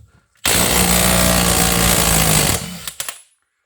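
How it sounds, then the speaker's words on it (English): An impact driver with a 24mm socket undoes the big lock nut on a Gen 4 Haldex coupling from a Land Rover Freelander 2 or Evoque. It gives one loud, continuous hammering rattle lasting about two seconds, then a few short sharp taps. "There's a big lock nut, 24mm impact driver."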